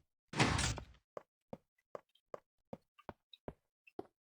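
A secret door opens in Minecraft with one broad whooshing burst, followed by a series of short, sharp clicks and taps at a steady pace, crisp and isolated against silence.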